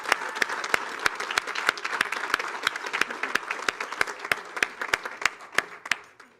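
Audience at a college commencement applauds an absent award recipient, a steady wash of many hands clapping with sharp individual claps standing out throughout, fairly close and without talk over it.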